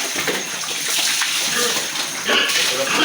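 Water gushes and splashes into a pig feeding trough, a steady rushing pour with grunting pigs and voices talking over it.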